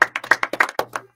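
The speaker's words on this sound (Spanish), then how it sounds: "Un aplauso." Scattered hand claps from a small audience at a live song-and-commentary show with guitar: around nine quick, separate claps, close and fairly loud, fading out after about a second.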